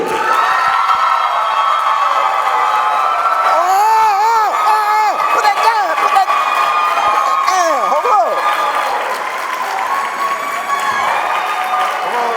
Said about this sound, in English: give a round of applause for Mr.